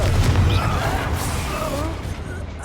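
A Confringo fire spell explodes in Hogwarts Legacy, a deep, loud boom that rumbles and fades over a couple of seconds while a voice is faintly heard.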